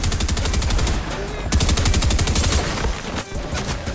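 Combat SMG fire in Fortnite: loud, rapid automatic bursts with a brief pause near the middle before firing resumes in a fast rattling stream.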